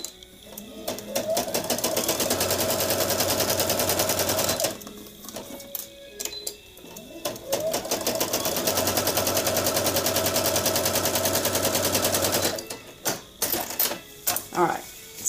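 A sewing machine runs close and steady in two long rapid bursts while stitching a costume sleeve, with short pauses and a few quick stops and starts at the end.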